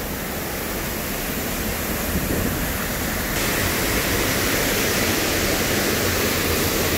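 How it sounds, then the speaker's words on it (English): A waterfall at a creek pours in a steady, loud, broadband roar of rushing water close to the microphone, unbroken throughout with no voices. "trying to climb down the bottom of this beautiful waterfall that I just found"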